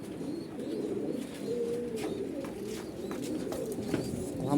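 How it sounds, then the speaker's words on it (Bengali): Several fancy and racer pigeons coo softly inside a loft, low repeated calls overlapping against a quiet background with faint clicks and rustles. "এই হলো সারা ঘরের কবুতর"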